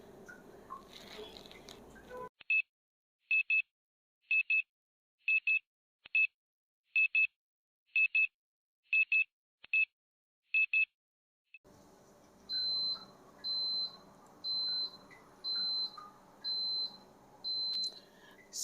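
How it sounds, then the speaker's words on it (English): A NutriCook electric pressure cooker's timer beeps about ten times in evenly spaced short tones, followed by a softer series of repeated beeps over background hum. "the timer has gone off"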